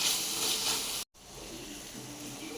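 Tomatoes sautéing with turmeric in a pan, giving a steady, close hiss of sizzling that drops out for a split second before resuming slightly softer.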